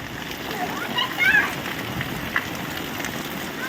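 Monsoon rain falls steadily and splashes on the ground, a continuous moderate patter with a few brief bright tones over it, while children play outdoors in the downpour.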